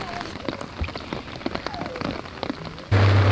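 Rain patters on an umbrella in a garden, making irregular close taps over a soft wash of rainfall. A low rumble comes in near the end.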